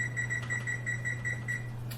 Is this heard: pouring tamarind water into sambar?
no